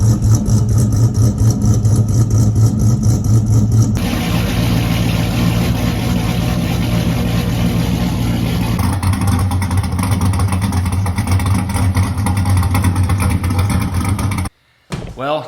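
A GM LS Gen 3/4 V8 in a truck or car idles loud and close with a ghost cam tune, a steady low rumble with an uneven, loping rhythm throughout, cutting off briefly near the end.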